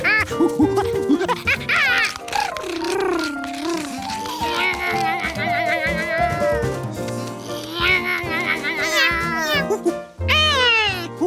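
Cartoon cats in a Curious George kids' cartoon meow repeatedly in loud, wavering, drawn-out cries, sometimes overlapping, with a short pause near the end before more meows.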